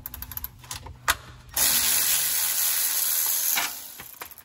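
A hand ratchet clicking as it loosens the last transmission pan bolt on a 1995 Ford F-series truck, a few sharp clicks and then a steady hiss-like run of rapid turning, heard alone up close.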